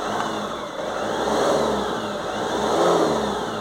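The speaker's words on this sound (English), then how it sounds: "Well, now it's revving up." A Fiat Ducato diesel van engine, with DPF soot accumulation, revs up twice in smooth swells, rising and falling in pitch, loud and close, with no talking.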